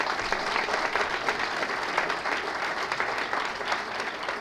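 An audience at a university function applauds warmly for a visiting author and historian, giving steady, dense clapping that stays even throughout with no voices standing out.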